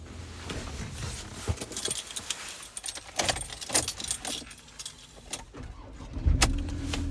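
Keys jangle and rustle inside a 2017 Ford Ranger 3.2 TDCi Wildtrak automatic before its diesel engine starts near the end and settles into a low, steady idle.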